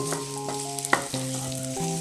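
Garlic and ginger frying in a pan at medium heat, a steady close sizzle with stirring clatter and a few sharp clinks, no voices.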